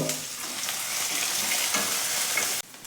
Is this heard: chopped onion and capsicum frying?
yes